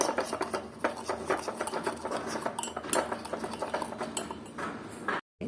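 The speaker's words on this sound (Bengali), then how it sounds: "আর এটাকে দিয়ে এখন আমি সুন্দর করে নাড়াচাড়া করতে থাকবো যতক্ষণ পর্যন্ত একটা ক্রিমি ভাব না আসে" Instant coffee whipped by hand with a spoon in a cup until creamy and foamy for cappuccino, a rapid, continuous clinking and scraping rattle that keeps a fast, even rhythm before stopping abruptly.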